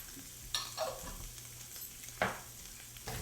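Patak's coconut and coriander curry paste frying in a pan, a quiet background sizzle broken by a few brief scraping and clattering stirs.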